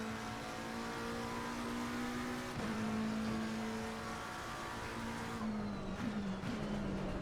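A car on a track drones through early braking, a steady coast and then acceleration, its engine note holding a steady pitch before dipping and picking up again near the end, with no voices.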